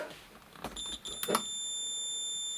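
A multimeter's continuity buzzer tests a speaker driver from a Quadral Rubin Phonologue E loudspeaker during capacitor replacement. After a few stuttering beeps and probe clicks, it settles into a steady, high electronic tone that holds to the end.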